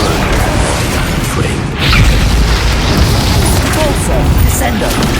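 A Bombarda blasting spell explodes in Hogwarts Legacy amid a dense, loud combat mix, with heavy low booms and crashing impacts running continuously and a voice calling out over the din.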